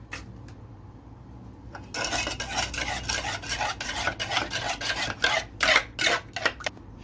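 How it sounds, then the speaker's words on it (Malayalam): Bread pizza batter is stirred after milk goes in, starting with a quiet lull, then continuous rapid scraping and swishing of a utensil in a bowl, close and fairly loud. "അപ്പം നമുക്ക് പാലൊഴിച്ച് നന്നായിട്ടൊന്ന് മിക്സ് ചെയ്യാം"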